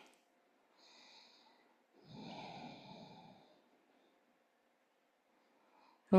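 Slow, deep breaths during a restorative fascia release session, a soft inhale followed by a longer, fuller exhale, quiet and close with silence between.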